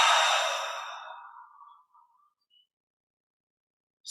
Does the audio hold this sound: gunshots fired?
no